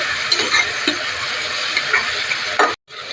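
Ground green chillies stirred into vegetable biryani masala frying in a pan, a steady loud sizzle with scraping stir strokes throughout and a brief break near the end.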